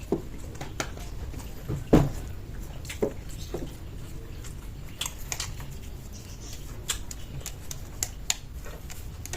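Crunchy Bicol Express with meat and rice is eaten by hand and chewed up close, giving sharp, scattered crisp crunches and clicks in an irregular rhythm, with one louder bite early and no talking.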